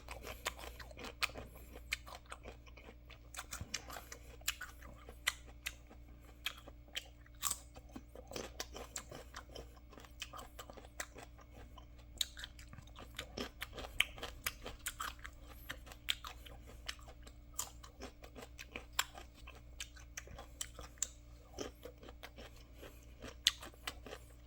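Sour green Nam Doc Mai mango being chewed with crisp, crunchy bites, a steady run of close, moderately quiet crunches and mouth sounds over about twenty-five seconds with no talking.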